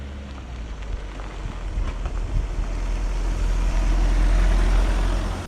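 A 2005 Mitsubishi Shogun Sport 4x4 rolls off a forest track onto a single-track lane, its steady low engine drone and rushing tyre and road noise building gradually, with no voices.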